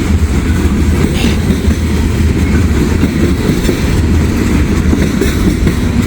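A train rumbles past crossing a river at Hamilton, a loud, continuous low roar with steady rolling wheel noise that fills the whole stretch without letting up.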